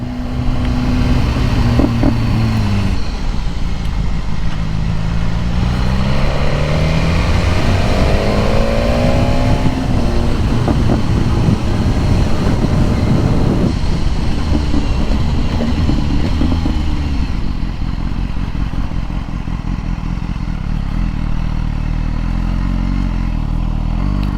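A BMW S1000R naked motorcycle being ridden, its engine droning loudly and steadily with rising and falling revs through gear changes, mixed with heavy wind rush throughout.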